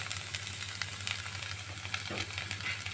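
Ground spice paste for a snakehead fish curry frying in a pan, a soft continuous sizzle with faint crackles and light stirring, fairly quiet and steady throughout.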